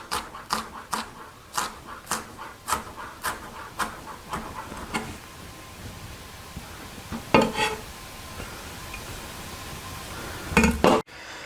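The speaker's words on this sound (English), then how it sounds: "we're going to cut some scallions, the green part" Knife thinly slicing green scallion tops on a bias against a cutting board, a run of crisp evenly spaced chops that slows and stops, then a couple of louder knocks, close and alone.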